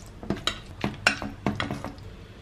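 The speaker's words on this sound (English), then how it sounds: "if you heat it in a saucepan and just add some plant milk, and you stir" A utensil stirring pasta with plant milk in a saucepan, a series of close, soft scraping knocks and clinks against the pan in an uneven rhythm.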